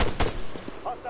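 Gunfire in the infantry combat video game Arma 3, a few sharp shots in quick succession, loud at first and thinning out, with a voice talking over them.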